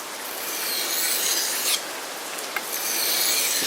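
A BK7 knife blade being sharpened, a continuous close-up rasping scrape with a few slight stroke changes, heard alone.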